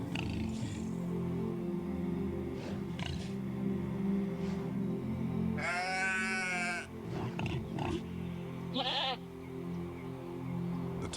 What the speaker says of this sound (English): The sheep wake in the morning.